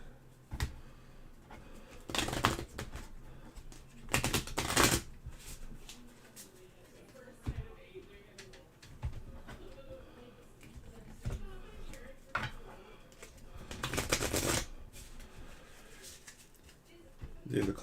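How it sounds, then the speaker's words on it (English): A deck of cards for the ISS Vanguard board game being split and riffled in small batches: a few quick, crisp riffle bursts spaced seconds apart, quiet and close, with soft handling rustle between. "So let's do a couple smaller shuffles, split, smaller shuffle."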